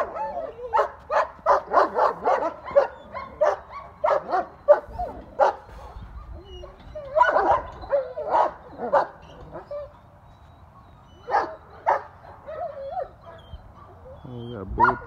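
Several dogs bark, yip and whimper in repeated bursts, loud and close, with short pauses between flurries; voices may be mixed in.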